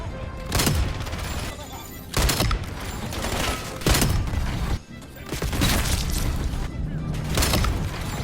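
Hawker HX sniper rifle firing in Black Ops 7, heavy booming shots spaced every second or two over a loud battle din, with a voice talking underneath.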